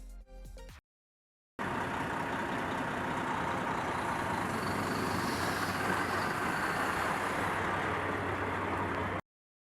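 A Volvo truck labouring with a slipping clutch, its engine straining and almost stalling in a rough, continuous low rumble that holds steady for several seconds after a brief silence.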